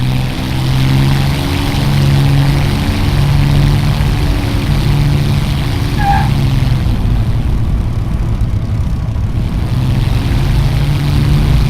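An A2A Mark I Spitfire engine roars steadily during a takeoff run from grass, its loud, continuous propeller drone holding through the whole clip and shifting slightly in tone partway through.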